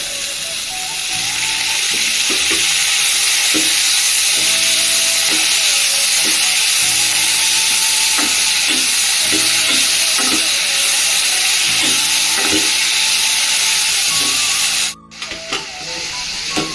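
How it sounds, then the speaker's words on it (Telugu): Loud, constant hissing sizzle of dried red chillies frying in hot oil for a tomato-cabbage chutney, punctuated by scattered pops and spatters, ending abruptly near the close. "ఆయిల్ వేసుకొని వేయించుకుందాం"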